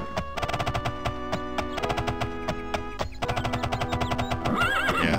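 A horse neighs in the video game The Elder Scrolls II: Daggerfall, its wavering whinny rising near the end over a busy, rhythmic backdrop of repeated clopping pulses and musical tones, with no talking.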